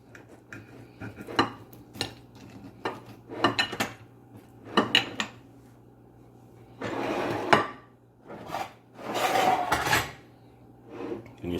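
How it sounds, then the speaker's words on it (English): A knife cuts into a steak smoked over firewood, giving a series of close scraping and clinking bursts against a plate with short quiet gaps and a faint background hum. "So here I go, cutting into the steak."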